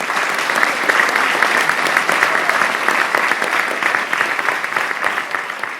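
An audience at a Filipino balagtasan, a live poetic debate, claps in sustained, dense applause that holds steady at full volume throughout, with no talk over it.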